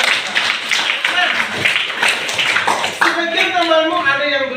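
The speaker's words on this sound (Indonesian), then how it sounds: "Kita beri tepuk tangan untuk Bapak." Classroom clapping for a student, a burst of hand claps from a group of people that stops partway through as a voice starts talking over the room.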